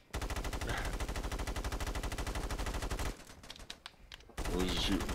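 Rapid automatic gunfire in the SOCOM video game, a steady close burst of evenly spaced shots lasting about three seconds, a quieter pause, then another loud burst with a voice over it.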